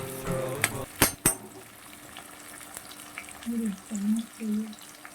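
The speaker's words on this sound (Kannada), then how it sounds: "ಈರುಳ್ಳಿ ಚೆನ್ನಾಗಿ ರೋಸ್ಟ್ ಆಗೋವರೆಗೂ, ಅದು ಸ್ಮೆಲ್ ಬರೋವರೆಗೂ ಇದೇ ಥರ ರೋಸ್ಟ್ ಮಾಡ್ಕೊತಾ ಇರಿ" Onions and green chillies roast in a pan for egg rice, giving a low, steady frying hiss. A few sharp clinks and brief voice-like tones come near the start, and soft stirring swells follow later.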